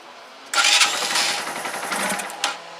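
Engine of an RKV project vehicle catching suddenly and running roughly for about two seconds, a loud uneven sputter that falters as it cuts out, with a brief blip near the end.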